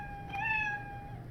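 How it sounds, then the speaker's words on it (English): A cartoon cat meow sound effect from a Scratch coding project plays once, a short bright electronic-sounding meow, clear and alone with a faint hiss behind it. "It sounds like it's meowing over and over and over."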